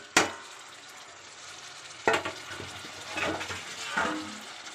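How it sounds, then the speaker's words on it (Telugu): A spoon stirs tomatoes into a frying potato and brinjal curry, giving a few sharp scraping clacks against the pan over a soft, steady sizzle, each followed by wet, squelching mixing sounds. "టమాటా వేసి మళ్ళీ కొంచెం కలపాలి."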